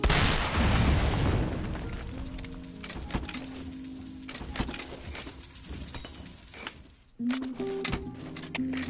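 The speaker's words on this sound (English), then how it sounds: "Explosion spotted. Damage unknown." Video-game explosion during a military-style PS4 shooter: a loud, broad blast at the start with rumbling decay, followed by scattered crackling impacts and a second sharp burst near the end.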